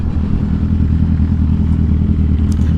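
Motorcycle engines roaring close and loud in a steady, rumbling drone as the bikes race toward a white line, with no voices over them.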